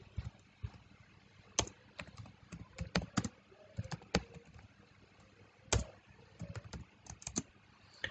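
Keystrokes on a computer keyboard while entering text in Python code, an uneven run of soft clicks with a few sharper louder taps, close and quiet, with no voices.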